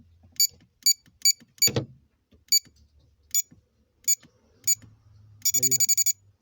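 Electronic digital safe buzzer giving short sharp beeps at irregular intervals amid mechanical clicks and handling, ending in a rapid burst of beeps, close and clear, no talk.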